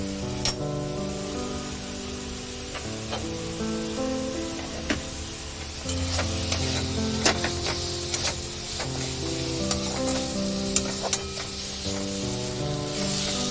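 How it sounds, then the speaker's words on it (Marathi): Tomatoes cook down in a pan of roasted spices for paneer bhurji, giving a continuous soft sizzle near at hand with scattered crackles and light ticks. "तर हे टोमॅटो बघा असं एकदम बारीक होईपर्यंत आपल्याला भाजून घ्यायचं आहे।"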